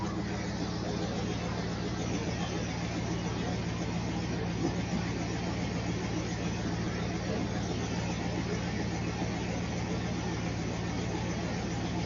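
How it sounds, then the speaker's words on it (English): The exhaust of a running 1992 Dodge Dakota pickup truck makes a steady, low, droning rumble close by, holding an even level throughout with no breaks. "you may not be able to hear for the exhaust of the truck"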